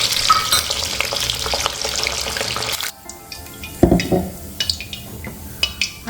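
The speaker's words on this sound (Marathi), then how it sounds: "आपण आता लसूण पण तळून घेणार आहे" Garlic frying in hot oil for a vada pav chutney, loud broadband sizzle filling the first half, then dropping to a quieter crackle with scattered pops and clinks of utensils.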